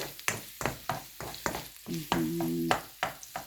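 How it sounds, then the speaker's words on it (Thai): Garlic stir-fried in a wok for Thai basil stir-fry, with repeated sharp scraping strokes of the spatula in a steady rhythm over a soft sizzle, close and fairly loud. "ผัดกระเทียมให้หอมก่อนเนาะ"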